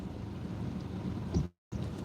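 Steady rain patters down outdoors during a catfish and carp fishing trip, a broad constant hiss with a soft thump, briefly cut to silence.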